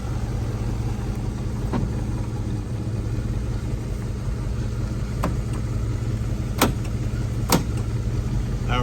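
A 1987 Chevrolet Silverado 4x4 pickup with a 350 V8 and 700R4 overdrive transmission idles steadily, a continuous low rumble with a few brief clicks, close and without talk.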